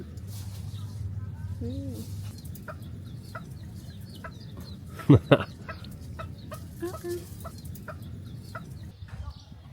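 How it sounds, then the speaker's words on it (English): Chickens cluck softly nearby with scattered short calls and a couple of sharper squawks, under low background noise. "It's a good place for little chickens to hang out."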